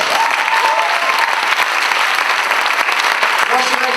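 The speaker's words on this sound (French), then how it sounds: "Merci, on les applaudit bien fort." An audience applauds an improv team at an improvisation championship final, with loud, dense, steady clapping filling the whole stretch and a voice speaking over it near the end.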